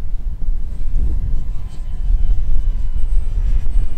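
A Hawk King 928mm RC seaplane flies overhead with a steady whining electric motor drone and buzz, loud and continuous over wind noise, with no talking.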